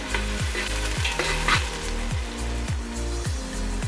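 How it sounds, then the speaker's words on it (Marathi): Onion frying in hot oil toward reddish brown for a home-made mutton rassa, a loud continuous sizzle with regular scraping strokes of a spatula roughly every half second, close up, no talk. "कांदा तेलामध्ये अगदी लालसर परतून घ्यायचा व्यवस्थित"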